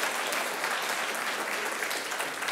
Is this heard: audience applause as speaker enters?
yes